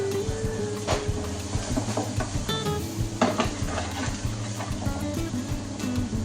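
Chopped onion, garlic and ginger fry in hot oil in a pan, a steady sizzle under repeated stirring and utensil clinks, close and continuous.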